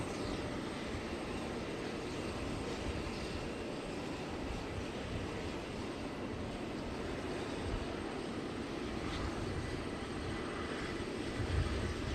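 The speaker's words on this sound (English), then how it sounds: "President Joseph Biden, as we see him now getting off the plane" Air Force One sitting on the tarmac in Lewiston, a steady loud jet engine whine and broadband roar holding constant throughout, with no speech.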